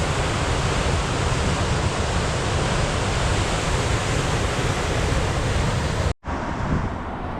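Waterfall rushing on the Dalälven river in Sweden, a loud, steady broadband roar with no break until a brief dropout near the end.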